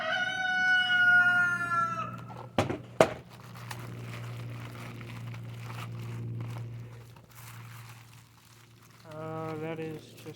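Chickens and a rooster clucking and crowing near a house, a loud crow at the start and another later, with a low steady hum and some rustling between.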